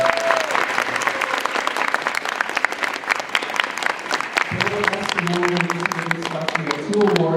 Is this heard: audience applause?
yes